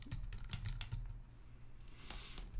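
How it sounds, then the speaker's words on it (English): Rapid, steady clatter of a computer keyboard as a search term is typed in, close and fairly quiet, a continuous run of key clicks with no voices. "type in banana farmers"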